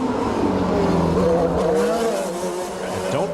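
Formula 3000 race cars at Monaco in 2002 scream past at high revs, loud and close, with the engine pitch sweeping as a car passes near the end.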